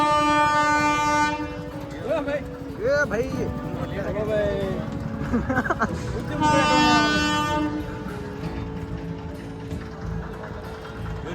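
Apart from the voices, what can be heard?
train approaching with horn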